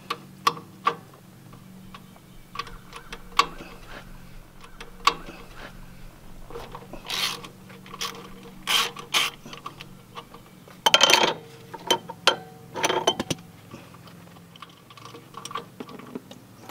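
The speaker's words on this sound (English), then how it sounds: "Take this off with a socket." Socket wrench loosening a plug on a Kubota L3901 tractor during an oil change, heard as a series of sharp close ratchet clicks and metallic taps in short irregular bursts.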